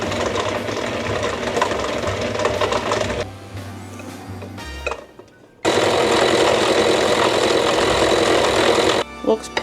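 Electric hand mixer beats cream cheese, egg and granulated sugar together in a bowl, a loud steady whirring drone that cuts out briefly midway, then resumes at full speed before stopping.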